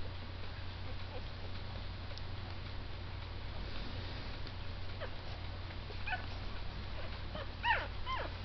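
Faint, thin squeaks from one-week-old newborn puppies come in a few short bursts late on, over a steady low background hum.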